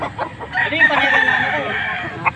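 A young gamecock stag crows loudly and close by, one full crow lasting about two seconds, with a few clucks just before it.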